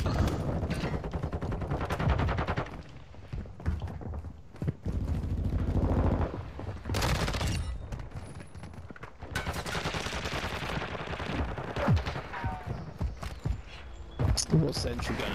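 A sentry gun fires continuously in a video game amid steady rattling automatic gunfire and other game sounds. People talk over much of it.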